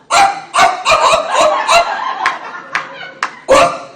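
A man in a live stand-up comedy set imitates a dog barking like Lassie with his voice, giving a run of sharp, loud, rhythmic barks and yips close to the mic.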